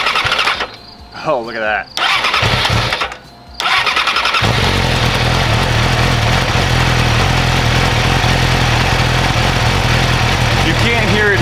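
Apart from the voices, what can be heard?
Yamaha R6 motorcycle engine starting and idling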